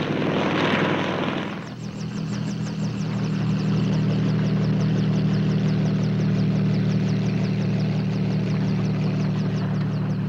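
Helicopter in flight near the Las Vegas Boulder Dam area, a loud, steady rotor chop and engine drone after a short burst of noise at the start, continuous throughout.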